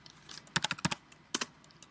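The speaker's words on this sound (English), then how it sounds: "and we type putty" Typing on a computer keyboard at a command prompt: two short bursts of crisp close key clicks separated by a brief pause, with no voices.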